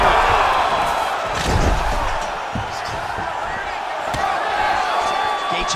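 A loud, continuous crowd roar swells and surges from an arena during a UFC 5 video game welterweight bout between Justin Gaethje and Max Holloway, with occasional sharp impacts and commentary layered over it.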